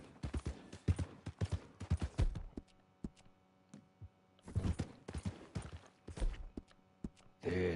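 A horse's hooves clip-clop at a walk in the video game Red Dead Redemption 2, as a run of close, crisp, evenly spaced hoof strikes. They come in two bursts separated by a quieter gap.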